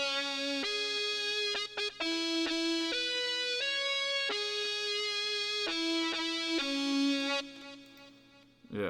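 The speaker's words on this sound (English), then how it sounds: "Then I added a guitar for some like very energetic" Bright, heavily processed synth-style guitar lead plays a stepped melody of sustained notes as the climax section of a futuristic trap beat built in FL Studio, loud and continuous with no talking.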